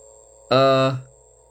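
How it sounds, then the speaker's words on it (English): Hasbro Power Rangers Lightning Collection Pink Power Morpher toy giving a loud, steady electronic buzzing hum for about half a second after its call, then fading out, with a faint background drone before and after. "So it does make a consistent humming sound once it's done its call."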